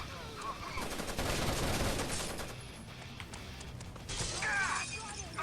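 FAMAS rifle fire in Rainbow Six: Vegas 2 crackles in dense bursts with sharp impacts and shattering debris, steady at first, easing mid-way, then a second loud volley.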